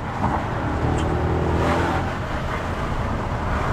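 A car being driven, heard from inside the cabin as a steady, loud blend of engine drone and road roar that swells slightly midway and then holds even, with no talking.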